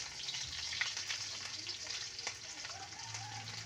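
Garlic and onion sizzle steadily in a hot pan for adobo, a soft continuous frying hiss with occasional stirring clicks, fairly faint throughout.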